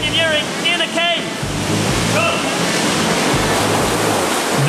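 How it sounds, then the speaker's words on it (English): A waterfall gushes inside a cave in Belize, a loud, dense roar of rushing water filling the space, with voices talking briefly over it. "After an hour of hiking, we've reached our goal, the waterfall cave."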